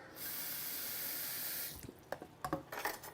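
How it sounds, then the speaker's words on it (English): Water poured into a wok, a steady hissing stream lasting under two seconds, followed by a few small splashes and clinks of the pan. "We put some water in here."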